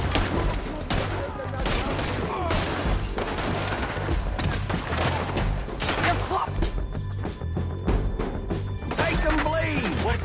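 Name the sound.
gunfire in shootout, from video game Red Dead Redemption 2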